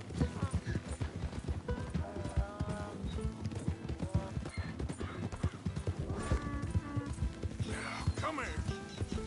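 A horse galloping in the video game Red Dead Redemption 2, with steady rapid hoofbeats and an occasional whinny under game sounds and music, while a rider urges it on.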